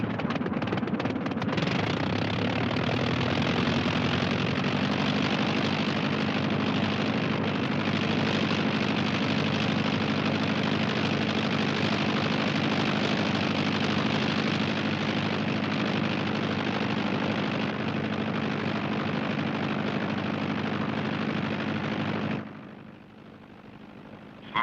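A small airplane's engine idles steadily before taxiing toward the runway, a loud, even drone holding for over twenty seconds before cutting off abruptly near the end.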